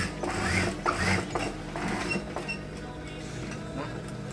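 Domestic sewing machine stitching elastic onto a bed skirt, a steady mechanical whirring and ticking with uneven bursts, close and fairly loud.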